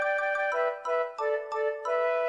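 A ringing, gong-like chime played as a sound effect, sounding in several overlapping struck tones with bright sustained resonance, one every third of a second or so, close and clear with no talk.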